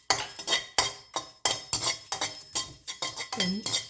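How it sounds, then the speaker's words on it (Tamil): Metal spatula scraping and stirring pandan leaves being dry-roasted in a pan, a quick series of sharp clinking strokes in a steady rhythm, close and clear. "அடுத்து இந்த ரம்பையை போட்டு வறுத்தெடுக்க போகிறோம்."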